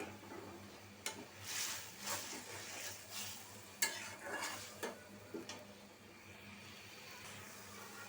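Masala spice paste fries in a pan under a soft steady sizzle, with repeated rhythmic scrapes and taps of a spoon stirring it, quiet and close.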